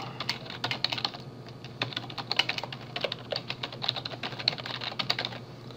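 Steady typing on a computer keyboard, quick irregular key clicks running throughout at moderate, close level with no talking.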